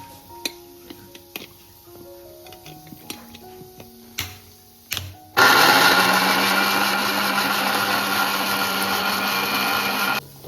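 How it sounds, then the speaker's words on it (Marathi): A kitchen mixer grinder starts up after some clinks and runs loudly and steadily, grinding jackfruit pulp into a puree, a dense whirring roar that fills the rest of the clip. "आता मिक्सरला लावून घेऊ आपण"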